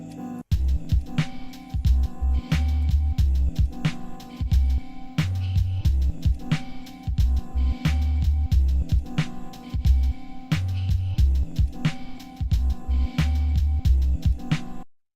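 A Dirtywave M8 tracker plays a chopped sample pattern shaped by STA commands: a loud, steady, looping beat of punchy low thumps and sharp hits repeating for the whole stretch, with no talking.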